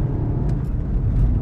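A VW Golf 7 GTI Performance, 169 kW, pulls at full throttle on a twisty mountain pass, its engine a steady loud low rumble heard from inside the car, with no speech.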